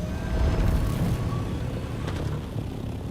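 A steady engine drone from an aircraft flying in Dune Awakening, moderately loud and continuous with a faint whine above the rumble, no voices.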